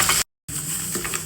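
Garlic and cardamom sizzle in hot oil in a pan, a close, steady hiss of frying with a brief silent cut partway through and light stirring after.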